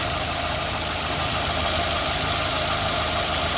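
A car engine runs rough after being switched over to LPG, a loud, close, steady drone with an uneven shaking pulse throughout, no voices.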